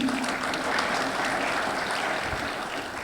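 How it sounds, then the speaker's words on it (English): An audience at a Deccan Herald Bengaluru summit in a Marriott hotel applauds in a full, sustained round of clapping that fills the room throughout, with no speech over it. "You should have claps for that."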